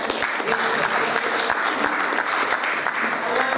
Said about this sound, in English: So I want you guys to give yourself a round of applause for listening to our panelists.